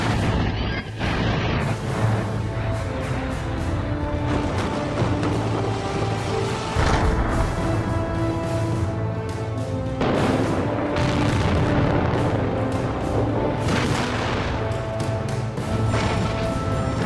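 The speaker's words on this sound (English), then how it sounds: "In just seconds, a bridge that stood for decades crumbles in a perfect blast" Demolition blasts bring down a bridge, heavy booming detonations and crashing collapse rumbles recurring through the clip, loud and layered with reverberant debris noise and some accompanying musical tones.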